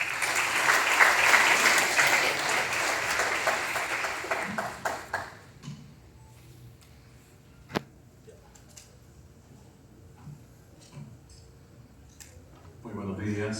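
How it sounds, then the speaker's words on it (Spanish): An audience applauds loudly at a World Water Day event in Lima, the clapping filling the first five seconds before dying away into a quiet room, with scattered small noises and the start of speech at the end. "Lo recibimos con fuertes aplausos."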